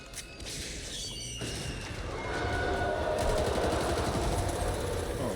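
Rapid automatic gunfire from the zombie shooter game Back 4 Blood rattles on in dense, loud, continuous bursts that build slightly in intensity, with no voices.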